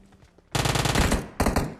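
Spray fire from a gun in the video game Battlegrounds Mobile India: a loud rapid burst of automatic shots, a short pause, then a second brief burst. Both are close and heard alone.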